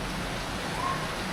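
Steady rain falls in Thailand, a dense even hiss with no breaks, and no voices over it.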